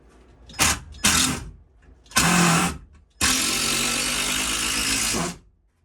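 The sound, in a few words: impact drill driving screws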